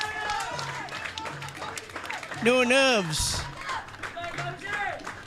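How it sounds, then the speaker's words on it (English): Crowd applause at a school cricket match between St. Anthony's College and Trinity College as a batsman is congratulated, a steady clapping bed running under a commentator talking throughout. "the entire crowd on their feet here, congratulating him in a big way, applauding"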